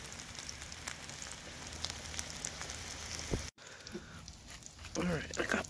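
A schnitzel sizzles in shallow oil in a cast iron pan, a steady close crackle that breaks off briefly and then returns, with a person talking over it.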